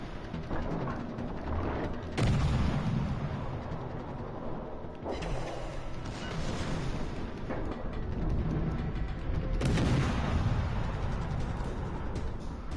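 Battleship main guns firing high-explosive shells in World of Warships Legends: several heavy booming salvos a few seconds apart, loud and close, over a constant mechanical rumble with no talk.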